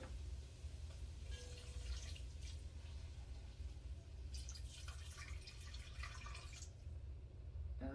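Homemade lobster shell stock pours into a pot in a quiet, steady trickle with faint liquid splashing over low kitchen hum.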